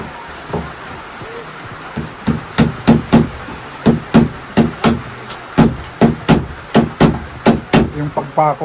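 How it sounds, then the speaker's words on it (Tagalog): A hammer drives nails with a steady run of sharp, close knocks, pausing briefly then striking in even rhythm, with a few faint voices in the background. "Nakitinggan yan yung"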